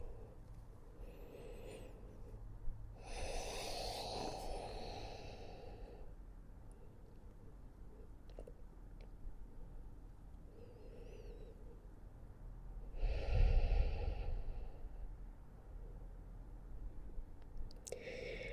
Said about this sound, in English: Couple of deep inhales and exhales.